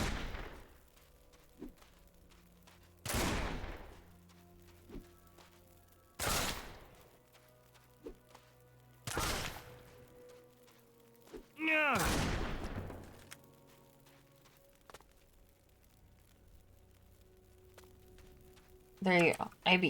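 Gunfire in the video game Risen rings out as separate loud blasts spaced a few seconds apart, each with a short decay, over a quiet background with a voice speaking.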